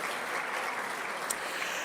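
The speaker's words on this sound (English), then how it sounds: "you should give yourselves a round of applause" An audience at a breakfast plenary session gives a steady round of applause, a dense, even wash of many hands clapping that holds at the same level throughout, with no talk over it.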